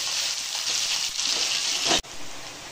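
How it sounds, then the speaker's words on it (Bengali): Large onions frying in a pan for a Bengali nawabi chicken, a dense bright hiss of sizzling oil that drops off abruptly near the end before resuming more quietly. "এই পেঁয়াজগুলো আমি এখন এর মধ্যে দিয়ে দেবো, দিয়ে একটু লাল লাল করে ভাজতে দেবো।"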